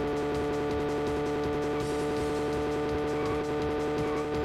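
Racing car engine held in sixth gear in the Wii game GT Pro Series, a loud, steady high drone with a fast pulsing buzz, constant pitch and faint tire noise underneath.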